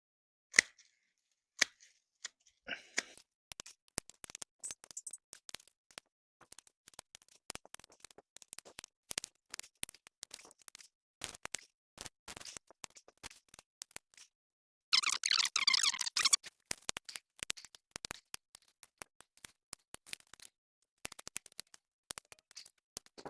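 Secateurs cutting back plant stems to about 30 to 40 centimetres, heard as sharp, close snips and clicks in irregular bursts with rustling foliage between them, plus a denser stretch of rustling midway through, with no talk.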